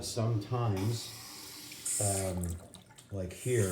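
A faucet runs in a house for lease in Grayhawk, North Scottsdale, a soft steady hiss between stretches of nearby talking.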